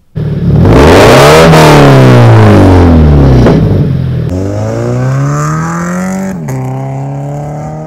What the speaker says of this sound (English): I'm going to throw in a couple exhaust clips to kind of show you guys what my car sounds like